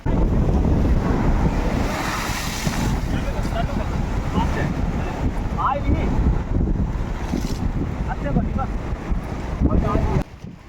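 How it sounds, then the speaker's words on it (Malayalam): Sea waves crash and surge against the shore at Haji Ali Dargah in Mumbai, a steady loud roar of surf with wind buffeting, continuous throughout and fading at the very end. "വെള്ളം അത്യാവശ്യം പൊങ്ങി നടന്നു വന്ന വഴി നനച്ചുകൊണ്ട് തിരമാലകൾ ആഞ്ഞടിക്കുന്നുണ്ടായിരുന്നു"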